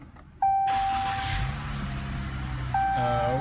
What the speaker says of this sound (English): We're gonna restart the car here again